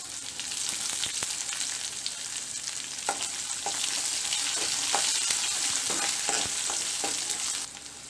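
Onions frying with garlic in a pan for garlic kulambu make a continuous, loud close sizzle. Occasional stirring scrapes cut through it, and no one speaks.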